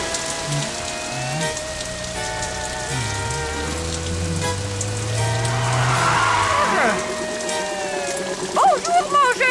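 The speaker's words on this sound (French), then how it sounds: "il pleut des hallebardes?" Heavy rain hisses steadily throughout a cartoon scene, a dense patter layered under tonal music and brief animated voices.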